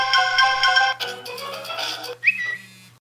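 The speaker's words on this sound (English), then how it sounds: "New ringtones and new text tones." A new iOS 5 ringtone plays on an iPhone 4, a bright synthetic melody of clear whistle-like tones in a few short phrases, loud and close, then it stops.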